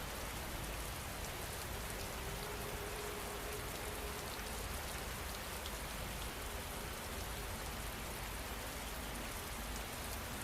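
Steady rain falling continuously, a dense, even hiss of drops on surfaces with no pauses, soft and distant-sounding, heard alone without any voices.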